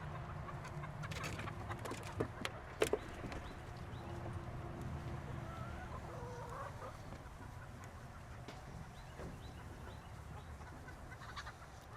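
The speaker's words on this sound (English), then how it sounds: "So we're moving our laying hens this morning." Laying hens cluck and murmur nearby against a busy outdoor farm background, with scattered knocks and rustling throughout.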